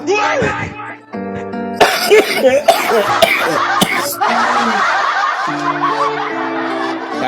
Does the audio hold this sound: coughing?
yes